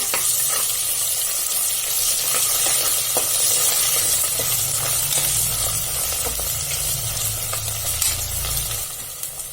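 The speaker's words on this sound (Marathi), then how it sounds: "असं तेलात फ्राय करून घेऊया हिरवी मिरची" Green chilies with crushed ginger and garlic fry in hot oil for a vegetable pulao, giving a loud, close, continuous sizzle with scattered crackles and stirring scrapes throughout.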